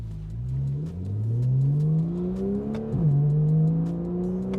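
A Porsche 911 50th anniversary edition's flat-six engine revs and accelerates hard, its note climbing through gears with a brief dip at a shift, loud and close, with no talk.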